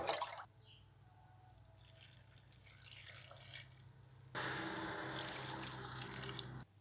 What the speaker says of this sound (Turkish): Sirke ilavesinden sonra da tuzlu sularını ilave ediyorum.